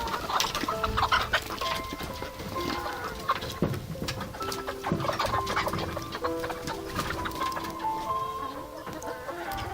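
Rescued hens, three thousand taken from an egg farm, cluck and chatter continuously as a crowded flock, with many overlapping calls at moderate loudness and no talking.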